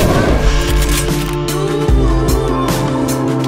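Gunfire from the hunting video game Deer Hunter: Reloaded, with several loud, booming rifle shots spaced irregularly across the stretch, each followed by a short echoing tail over a faint musical bed.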